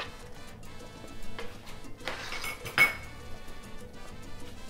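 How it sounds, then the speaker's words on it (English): A spoon clinks and scrapes softly against a pot as raisins are stirred into arroz con dulce, a Puerto Rican rice pudding, a few quiet irregular knocks at close range with no talking. "Go ahead and add those in there and stir them around."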